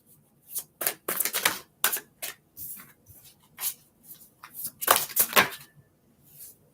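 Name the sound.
shuffling tarot cards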